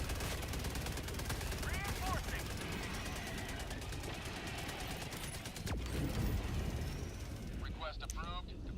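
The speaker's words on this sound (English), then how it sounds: "Oh, Gatling Sentry, you fuck." A Gatling Sentry in Helldivers 2 fires a steady, dense stream of rapid rattling shots with booming blasts in the background, while voices talk over the gunfire.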